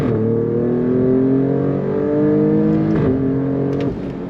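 A 2023 Alfa Romeo Stelvio Quadrifoglio SUV in race mode, heard from inside on throttle in second gear, engine climbing steadily in pitch with a brief dip near the end as a paddle shift arrives.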